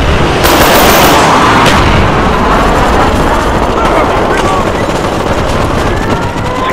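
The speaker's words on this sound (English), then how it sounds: "Napalm strike coming in hot" Napalm strike in Call of Duty: Black Ops on the Berlin Wall domination map, a loud, continuous roar of fire and blasts with gunfire crackling throughout, sharp bursts early on, staying dense and close to the end.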